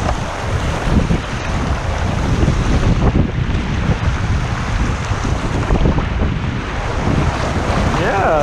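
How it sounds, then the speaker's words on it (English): Waves churn and splash steadily around a kayak during a river float, a constant loud wash mixed with heavy wind noise on the microphone, with no clear talk. "Yeah, some good waves."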